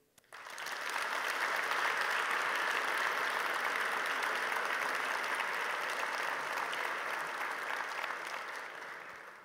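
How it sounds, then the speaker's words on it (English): A large audience at a Stanford Athletics Hall of Fame ceremony claps steadily for several seconds, a dense, sustained roar of applause that swells quickly and holds without pause. "Please join me in applauding this visionary man."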